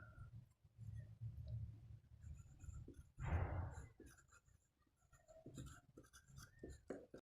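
A pen scratches softly across paper as medicine names are written down, quiet and close, with one louder rasping stroke midway and small clicks scattered throughout.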